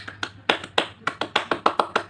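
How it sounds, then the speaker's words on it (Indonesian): A group claps the scout rhythmic clap, the tepuk pramuka, in a classroom: about a dozen sharp, evenly spaced hand claps in a quick steady beat, close and alone. "kita bikin kita dua kali tepuk pramuka"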